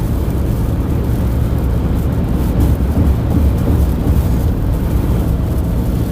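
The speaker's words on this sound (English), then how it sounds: "the freaking surface winds are ripping" Strong surface winds rip through a storm near Florala, Alabama, a loud, steady low roar buffeting continuously with no voices.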